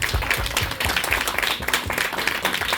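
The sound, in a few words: audience applause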